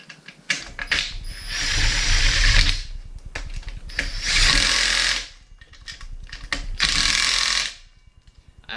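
Ratchet tightening a bolt during an RX-8 rotary engine rebuild, heard as three long bursts of rapid mechanical clicking, close and loud, separated by brief pauses with softer clicks.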